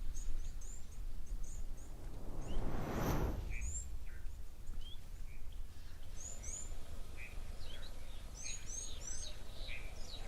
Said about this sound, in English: So a little bit quiet, except for lots of birds